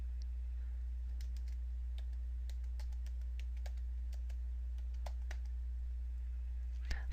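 Light typing on a computer keyboard, a scattered run of soft individual key clicks with uneven rhythm over a steady low hum, close and quiet, no talking.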